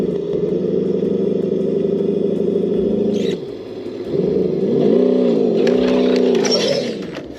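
An electric motor in an RC Ford Bronco with straight axles strains and whines steadily as it tries to climb, briefly dropping off before its pitch rises and wavers again under load.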